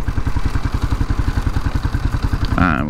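A 1991 Suzuki DR 650 single-cylinder motorcycle engine running on a trail, a loud, close, steady rhythmic thumping with a brief rise in revs at the end.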